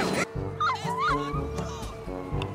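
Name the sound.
dog barking and whimpering in video game GTA 5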